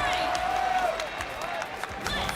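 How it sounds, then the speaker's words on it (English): A crowd of fans at the Evo fighting game tournament cheers and claps continuously, loud and diffuse, with a speaking voice over the noise. "We can obviously hear a lot of Globo fans in the crowd"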